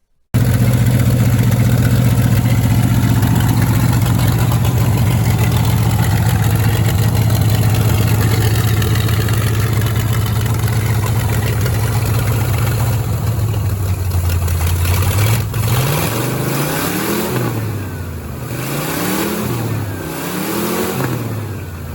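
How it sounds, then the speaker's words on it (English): A long-unfinished engine, its valves freshly adjusted, runs steadily and loud, then revs up and down in several rising and falling bursts near the end. "insert video of the motor running with the valves adjusted, so it's running a lot better"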